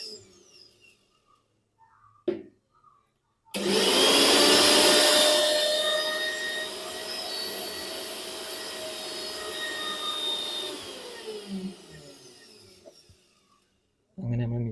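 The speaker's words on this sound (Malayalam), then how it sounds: "മിക്സി റെഡിയാക്കി വെച്ചിട്ട് ഓണാക്കി വെക്കുക" A repaired mixer grinder switched on, roaring up abruptly to a loud high whine that holds steady for several seconds, then eases off and stops, with a few clicks and handling noises around it.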